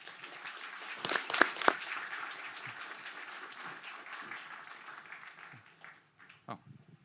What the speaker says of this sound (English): So please give a round of applause to the Norwegian Chief of Defence